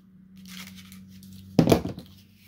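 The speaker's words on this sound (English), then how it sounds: "This one does though, so let's cut this one open." Toy packaging for a GI Joe Classified figure is cut open, a faint rustle of plastic followed by a short, sharp burst of tearing and crinkling close by, with no voices.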